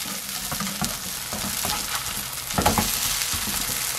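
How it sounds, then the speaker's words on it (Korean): A kimchi pancake made with soybean pulp fries in a pan with a steady close sizzle, and a brief louder burst of crackling as it is moved or turned over partway through. "한쪽에 노릇하게 구워졌으면 뒤집어 봅니다"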